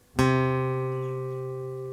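A single guitar note is plucked once, ringing out clearly and slowly fading.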